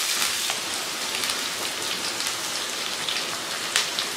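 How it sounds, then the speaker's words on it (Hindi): Okra frying in hot oil in a kadai gives a loud, dense, rain-like sizzle with scattered crackles, steady throughout and with no voices. "चम्मच चलाते हुए मैं भिंडी को फ्राई करूँगी।"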